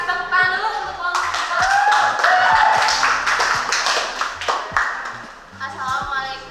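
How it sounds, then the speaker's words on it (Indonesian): A classroom group bursts into a few seconds of lively, dense applause for a presenting group, with voices heard just before and after the clapping. "Kasih tepuk tangan dulu untuk kelompok"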